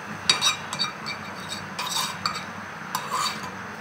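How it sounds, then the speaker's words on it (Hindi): Butter spread around the inside of a non-stick frying pan with a utensil, soft scraping strokes and light clinks in short bursts, close and fairly quiet. "ये मैंने फ्राई पैन लिया है नॉन स्टिक, अब इसके अंदर मैं थोड़ा सा मक्खन जो है वो ग्रेस कर लूंगी"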